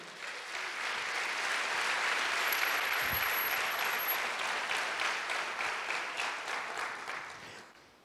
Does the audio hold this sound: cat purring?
no